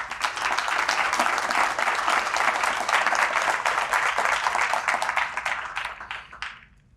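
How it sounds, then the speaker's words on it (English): An audience at a showcase event claps in a dense, steady burst of applause that holds for several seconds and then tapers off to silence near the end. "I think we can give them a round of applause"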